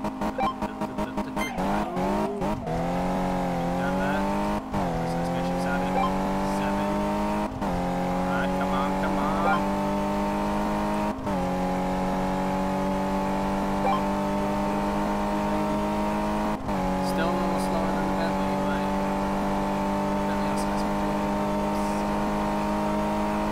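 Maserati engine in Car Mechanic Simulator 2015 revving hard through a quarter-mile run, with steady loud engine tone rising through several gear changes, each shift marked by a brief drop before the pitch climbs again.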